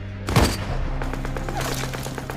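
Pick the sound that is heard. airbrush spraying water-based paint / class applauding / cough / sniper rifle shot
sniper rifle shot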